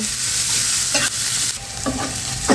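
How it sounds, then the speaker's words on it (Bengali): Onion and garlic fry in a little oil in a pan, a loud, close, steady sizzle broken by a few scraping stirs of a utensil. "অল্প তেলে পেঁয়াজ রসুনটা আমার ভাজা হয়ে গেছে"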